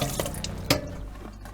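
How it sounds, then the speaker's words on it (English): Tap water runs into a kitchen sink while pickles are rinsed, a soft splashing flow with a few brief clinks and no talking. "I think I need to turn my water back on. And rinse that off."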